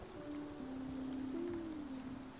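Steady rain patters on the deck of a boat in the video game Spiritfarer, a soft continuous hiss with sustained musical tones drifting over it; no voices.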